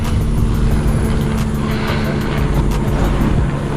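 A Redcat Vigilante RC truck runs off-road at part throttle, its electric motor whining loud and close in a steady high drone with faint rumble from the tires, no voices.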